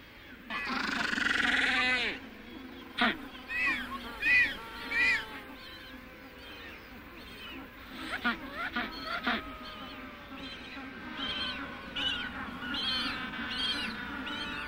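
High, bleating calls from penguin chicks in a shore colony on the Patagonian coast, repeated in short bursts and overlapping cries against a steady background of colony noise.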